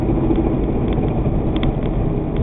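A Kawasaki Cavalier transmission with a spun bearing chatters continuously through a constant, close engine roar, with no pauses and no voices.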